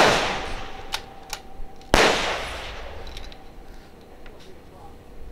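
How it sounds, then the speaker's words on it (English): Rifle shots at a competitive shooting match ring out as a few sharp cracks, the loudest followed by a long outdoor echo, with fainter distant shots after and someone talking quietly throughout. "Jay's making it really easy for me right now because he's shooting fast"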